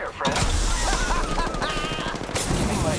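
Rapid automatic gunfire crackles in Apex Legends, a dense continuous burst of shots with a sharp blast near the end, while a voice talks over it.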